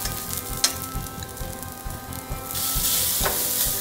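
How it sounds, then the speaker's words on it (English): Onion and capsicum sizzle and crackle in a hot pan for veg momo filling, with occasional sharp pops and a louder hiss swelling near the end. "after frying our onion and capsicum for 1 minute"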